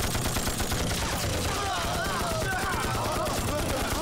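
A gunfire volley in a Chinese anti-Japanese martial arts action drama: a dense, continuous rattle of many guns firing together, loud and sustained throughout, with shouting voices mixed into the din.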